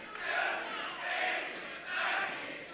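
A wrestling crowd at a Twin Cities championship event chants in rhythmic cadence, three swelling waves of massed voices heard at a distance with no clear speech.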